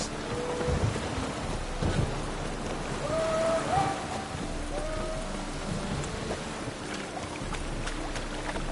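Rain and thunder in the video game Witcher 3: a steady wash of rainfall with low rumbling, some brief tonal game sounds over the top, and no talking.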